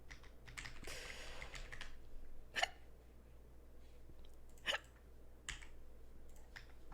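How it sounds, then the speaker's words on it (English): A few sharp hiccups, spaced a couple of seconds apart, over faint tapping clicks in a quiet room. "can my hiccups go away?"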